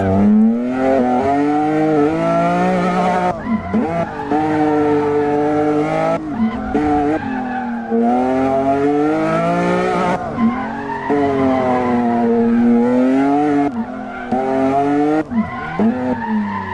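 Car in a driving video game doing handbrake turns, with loud, sustained tire squeals and skids rising and falling in pitch over a revving engine, repeated several times without talk.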